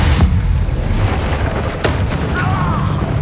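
Loud, dense blast from the Bombarda spell in Hogwarts Legacy, a booming explosion that fills the whole stretch with rumbling roar and crashing debris, thick low end throughout.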